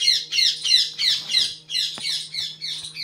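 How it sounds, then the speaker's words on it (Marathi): Parrots squawk loudly and continuously in a home yard in the early morning, with rapid rhythmic harsh calls close to the listener and a faint hum beneath. "पोपट आलेले आहे."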